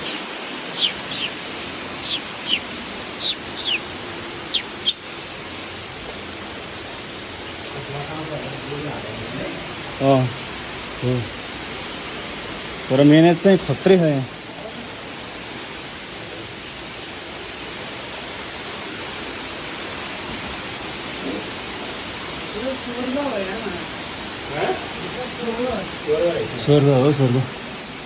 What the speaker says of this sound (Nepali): एक्चुअली झरना